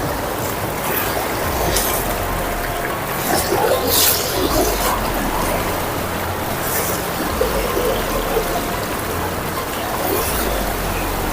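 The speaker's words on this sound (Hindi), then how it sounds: "काफी तेज बहाव है यहाँ पर पानी का।" Fast-flowing river water in a forest crossing, a continuous broadband rushing and trickling wash that stays close and loud throughout with no voices.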